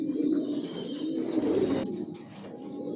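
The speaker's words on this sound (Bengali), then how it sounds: "এখানে যে কবুতরগুলো দেখতেছেন, এগুলো মাস্টার পেয়ার, রানিং পেয়ার" Racing pigeons in a loft give soft, repeated throaty coos that overlap one another at close range, with a few faint chirps in the background.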